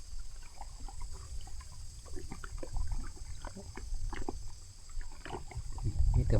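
A small boat glides over calm water in the evening, with soft, faint splashes and trickles coming close and quiet, and almost no talk.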